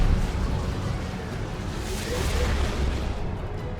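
Lascannon fire in the Dawn of War 2 battle game, a loud, dense booming blast with rumbling low end that lasts a few seconds amid battle noise.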